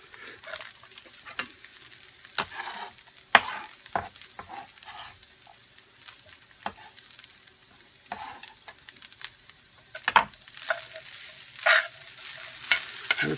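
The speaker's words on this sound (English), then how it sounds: "I'm going to add all these vegetables and keep stirring it until the rice is browned." Onions, mixed vegetables and rice being stirred in a pan as the rice browns: a soft, low sizzle broken by irregular scraping and clinking strokes of the spoon, close and moderately quiet, with no voices.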